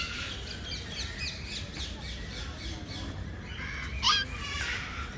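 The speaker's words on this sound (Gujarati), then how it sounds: "આ મેઘધનુષી પોપટ છે અને સામે જો એક કલરનો પોપટ છે." Rainbow lorikeets and other parrots squawk and chatter continuously, with one harsh, louder squawk standing out near the end.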